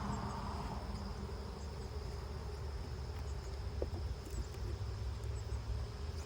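Honey bees buzzing in an open, honey-heavy hive during a summer check, a dense, continuous close drone holding steady throughout with no speech.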